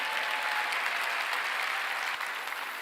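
A church congregation claps in a loud, steady round of applause during a sermon, dense and continuous for nearly three seconds before easing slightly at the end.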